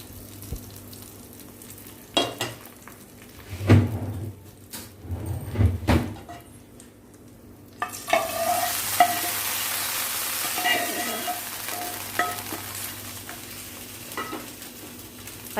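Tempering sizzles and crackles in a pan, a bright, continuous spattering hiss that starts suddenly after several clunks and knocks of utensils and lasts to the end.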